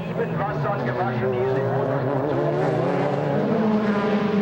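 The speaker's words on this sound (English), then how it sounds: "You can see them having to brake down and shift down." DTM touring race cars from 2000 at the Norisring braking hard and downshifting from high speed into a hairpin, a loud continuous multi-engine roar with rising and falling gear changes, a commentator talking over it throughout.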